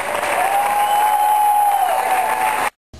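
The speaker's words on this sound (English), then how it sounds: "Let's hear it for Councilwoman Janice Hahn" An audience at a swearing-in ceremony applauds a councilwoman, loud continuous clapping with a sustained tone beneath it, ending abruptly.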